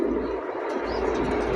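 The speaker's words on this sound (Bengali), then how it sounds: "দেখেন পায়রা সবসময় ডাকতো" Pigeon cooing close by, a low soft repeated coo over faint background noise.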